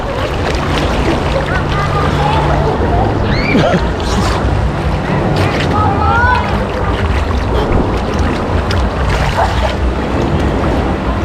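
Waves churning and surging in a water park wave pool, a continuous loud wash of water with wind buffeting the microphone and voices talking over it.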